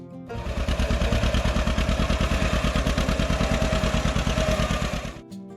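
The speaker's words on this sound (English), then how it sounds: "the John Deere signature twin-cylinder engine. Slurping and rumbling, each rhythmic beat echoing across the fields" A John Deere Model 60 twin-cylinder tractor engine runs at a steady, loud, close idle, its even, rapid, thumping beat holding for about five seconds before cutting off abruptly.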